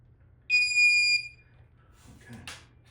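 A handheld metal detector wand gives a single loud, clear electronic beep lasting under a second just after a battery is put in, followed by quiet handling sounds.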